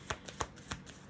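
Tarot cards are shuffled up close, a few quick, soft riffling bursts in an even rhythm within about a second, quiet and with no voices.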